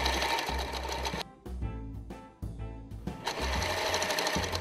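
A sewing machine stitches lace onto a corsage base, running loud and steady, cutting off briefly in the middle with a few short starts before resuming a continuous whir.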